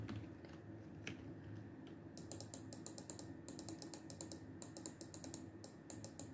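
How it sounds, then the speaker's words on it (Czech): An office-style computer mouse clicks close and fairly quiet while a Lumber Tycoon game is played, with a few scattered clicks early, then a rapid run of sharp, even clicks over faint room hum. "Protože slyšíte, já klikám tu myší."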